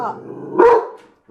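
A pet dog lets out one sharp, loud bark nearby, framed by quieter voice-like sounds before and after.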